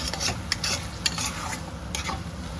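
Egg and okra are stirred into masala in a hot pan, with a spatula scraping in quick, uneven strokes over a close, continuous sizzle and no voices.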